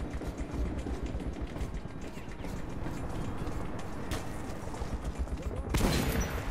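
A burst of gunfire in the video game Metro 2033 Redux, a dense rattle of shots over a noisy background, ending in a louder blast near the end, with a player's voice around it.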